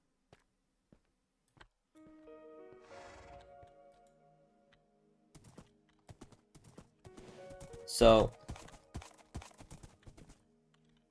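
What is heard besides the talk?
horse hooves in video game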